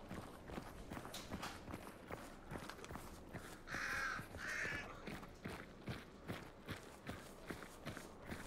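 Two loud, harsh raven caws in the video game Hunt: Showdown, one right after the other in the middle, over steady rhythmic footsteps of someone walking or running.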